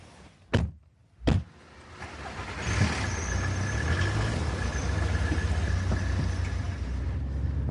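A car starts up after two sharp door thumps, then its engine and road noise settle into a steady, moderately loud rumble as it pulls away on the A505 near Duxford, no talk.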